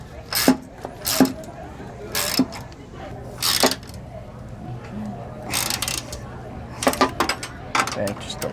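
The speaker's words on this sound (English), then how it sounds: "it's just getting it as tight as you can just with the wrench" Nuts being tightened with a wrench on a Lippert slide-out gear pack on a 2019 Grand Design Reflection camper: a few short, sharp metallic clicks and ratcheting bursts spaced apart, close by, over a low steady hum.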